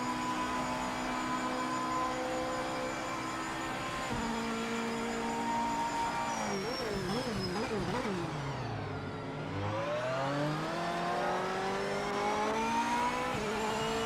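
A GT3 race car engine in Project Motor Racing climbs through rising revs, with quick gear shifts and a wavering drop in pitch near the middle before building again, loud and continuous with no talk.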